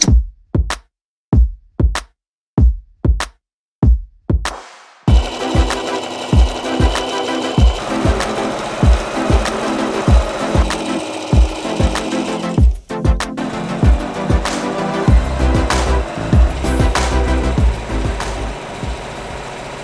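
A sewing machine stitches cording strips for a large round storage ottoman, first in short separate bursts, then running continuously with a rapid rhythmic mechanical thumping, loud and close.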